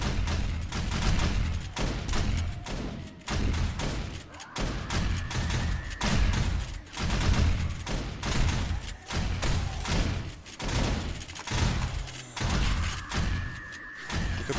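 Base turrets and shotguns in 7 Days to Die fire relentlessly at an attacking horde, a dense barrage of loud overlapping blasts and rattling bursts with short pauses between volleys.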